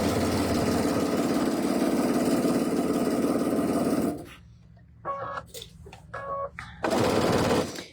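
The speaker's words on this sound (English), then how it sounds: "We're going to sew 1/4 of an inch on each side of the drawn line." A sewing machine runs fast and steady while stitching a quilt block along a drawn line, then stops for a few seconds with brief mechanical clicks before stitching resumes, close and fairly loud.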